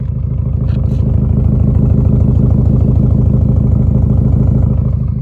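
A Subaru Outback XT turbo idles with a cat-back performance exhaust, giving a steady, loud, low rumble that holds evenly throughout without any revving.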